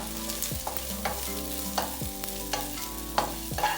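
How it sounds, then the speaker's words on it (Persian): Barberries fry in a little oil over low heat, with a soft continuous sizzle and repeated scraping stirs from a utensil in the pan. "زرشکم رو روی حرارت ملایم داخل 1 کم روغن سرخش میکنم"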